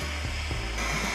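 Heat gun blowing steadily at close range to heat a stuck bearing in a motorcycle primary case, a continuous airy whir with a slight shift in tone partway through and no talking.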